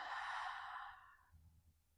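A slow, soft exhale of breath during a yoga flow, a single breathy sigh that fades out over about a second and a half, quiet and close with no talk.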